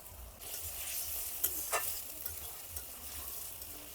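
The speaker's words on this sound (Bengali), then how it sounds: "ভালো করে মশলাটা কষিয়ে নেব" Masala with tomato and onion sautéing in a pan for a pork curry, a soft close sizzle with a few brief stirring scrapes and no talking.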